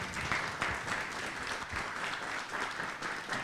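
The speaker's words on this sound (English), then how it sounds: "I want to thank all of you in a round of applause deeply" Audience applause at a live panel discussion on Black maternal health, a steady wash of many hands clapping at moderate volume for a few seconds, with no talking over it.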